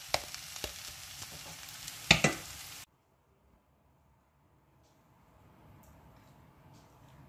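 Jaffna-style plantain peel sambal with onions is stirred in a pan, giving a close crackling sizzle with a few sharp scrapes that cuts off abruptly after about three seconds, leaving near silence and faint room noise.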